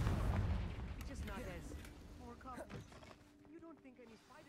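Confringo fire spell in Hogwarts Legacy bursting with a loud booming blast up front, then a rumbling decay fading over several seconds while voices talk over it.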